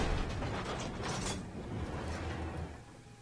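Tank reload mechanism of an LAV 300 armored vehicle in Armored Warfare, a steady metallic ratcheting and clanking of gears and latches, close and continuous, fading slightly at the end.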